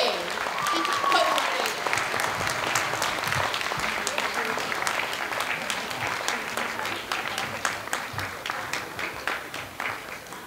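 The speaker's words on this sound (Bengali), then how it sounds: "এদের সবার জন্য আবার হাততালি হয়ে যাক খুব জোরে" An audience applauds after a Bengali stage performance of Manoj Mitra's play Babuder Dal Kukure, directed by Rama Pahari Sood. The clapping is dense and loud, and it continues steadily for the whole stretch.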